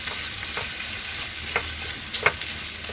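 Tomato and onion frying in a pan for kushka, with a steady close sizzle and occasional stirring scrapes and clicks against the pan, no voices.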